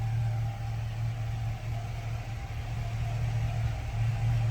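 LS-swapped Squarebody dually truck cruising on the road, a steady mid-pitched V8 drone with a low, even hum and a faint whine layered above, holding a constant pace.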